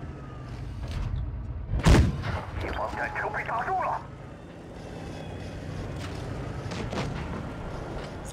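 Tank cannon fire in World of Tanks Blitz, one sharp, loud shot with a short rumbling tail over steady game background noise, with someone talking over it.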